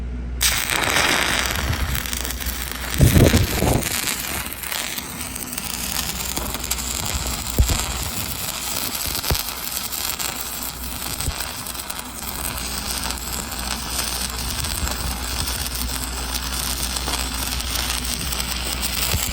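Arc welding hot pass laid with a 5P (5P+) stick rod, whipped into the joint: a steady close crackling and sizzling hiss runs unbroken throughout, with a couple of sharper pops near the start.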